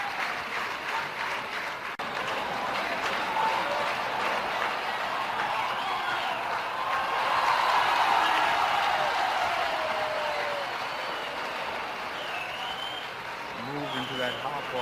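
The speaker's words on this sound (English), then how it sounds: "Fine applause for Manjrekar." Cricket crowd at a 1991 India versus Pakistan one-day international in Sharjah applauding Manjrekar, a broad wash of distant stadium clapping and cheering that swells midway, heard under a commentator's voice.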